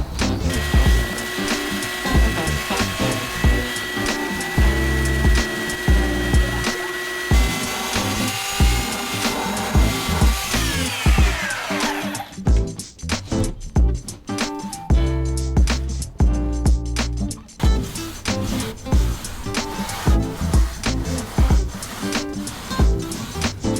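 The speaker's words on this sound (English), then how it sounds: "Obviously sanding is happening" A power sander drones and grinds against a Sprinter van roof for a long stretch, its pitch shifting and pulsing as it is pushed back and forth.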